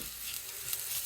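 Herbs sizzling and frying in hot oil in a pan, a steady close crackling hiss with faint stirring, no voices.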